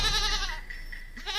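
A goat bleats loudly and close by, one long wavering cry followed by a shorter second call.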